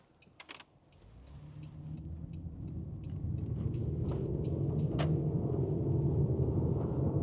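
A 1990s Toyota Mark II 4WD wagon drives along a road: after a few light clicks, its engine and tire rumble swells and then holds as a steady, moderately loud drone from inside the cabin.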